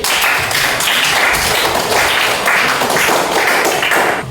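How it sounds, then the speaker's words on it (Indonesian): Students in a classroom applaud, a dense, steady patter of many hands clapping at once, loud and continuous with no talk over it. "Beri tepuk tangan untuk Melati."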